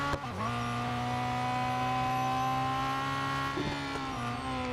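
A race car in Real Racing 3 sweeps through a corner on the penultimate lap while leading, its engine holding a strong, steady whine with a brief dip as it shifts mid-turn, loud and close.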